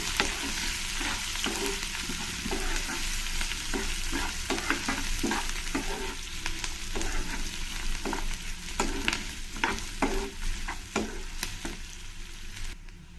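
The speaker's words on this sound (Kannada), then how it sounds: "ಇದನ್ನೆಲ್ಲ ಒಂದು ಸ್ವಲ್ಪ ಚೆನ್ನಾಗಿ ಫ್ರೈ ಮಾಡ್ಕೊತೀನಿ" Onions and curry leaves frying in a pan, a steady close sizzle with repeated scraping stirs of a spoon throughout.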